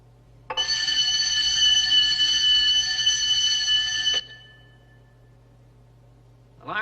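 A bank's alarm system rings loud and continuous for about four seconds, a harsh bell-like tone that stops abruptly and leaves a low hum, with a faint new sound starting at the very end.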